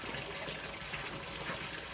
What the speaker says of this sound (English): Just turn on the power. Out comes the water.